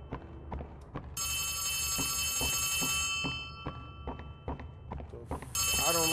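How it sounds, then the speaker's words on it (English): A telephone rings inside the Poppy Playtime Chapter 3 video game, a bright electronic ring that sounds in two bursts over footsteps-like thuds and low game ambience. "Okay, the phone's ringing."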